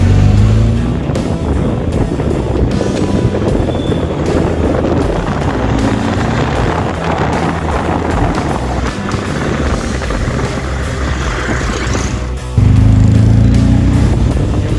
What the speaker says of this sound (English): मैं बैठ चुका हूँ BMW बाइक में, और क्या शानदार चल रही है